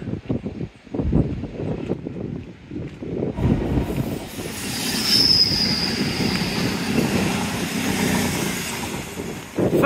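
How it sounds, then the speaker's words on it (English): A train runs along the seafront railway at Teignmouth beneath Sprey Point, a loud sustained rumble building close by with a squealing wheel note partway through, and no talking. "First train of the day."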